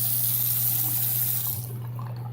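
Water runs steadily from a Moen Eva 6410 bathroom faucet with a freshly replaced aerator, a loud, close, continuous hiss and splash with a low hum beneath it.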